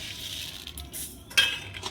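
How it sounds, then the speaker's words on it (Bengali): A spoon stirs sugar into warm milk, giving a few soft scraping swirls and one brighter metallic clink against the vessel, close but fairly quiet. "চিনি দিয়ে এইভাবে নেড়ে নিতে হবে।"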